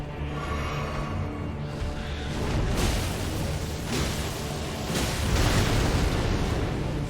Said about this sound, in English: Giant explosion. Less good.